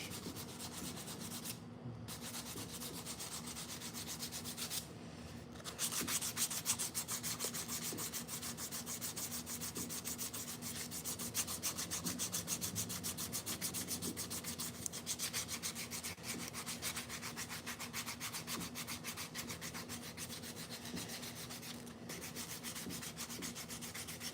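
Steady rubbing and scraping of sandpaper on a wooden slingshot, continuous and close, with a faint hum in the background and brief pauses in the strokes.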